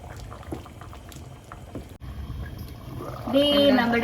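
Chicken stew with potatoes bubbling in a pot, a soft low simmer at first that swells into louder, busier boiling toward the end, heard up close.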